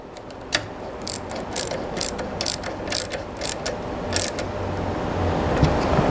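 A ratchet tightens the brace bolts between an aluminium luggage rack and a Triumph touring motorcycle, giving about eight crisp, evenly spaced clicking bursts, close and clear with no talk.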